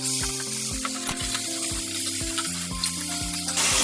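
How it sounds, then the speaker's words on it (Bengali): Beef pieces for a beef chilli hiss in a hot pan, a continuous close sizzle under a repeating rhythmic pattern of tonal knocks and thumps, with no voices. "হ্যাঁ, আমি এখন দিয়ে দিচ্ছি মাংসগুলো। গরম হয়ে গিয়েছে, আমি এর মধ্যে দিয়ে দিলাম।"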